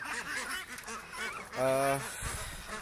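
Mixed poultry, turkeys, ducks and guinea fowl, calling while being fed, with nasal honking and quacking calls close by, one drawn-out honk standing out amid busy clucking and chatter.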